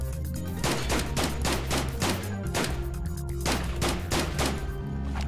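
An AK rifle firing in semi-auto in the video game Stalin Subway: Red Veil, a steady run of about a dozen sharp, loud shots spaced fairly evenly, with no talk over them.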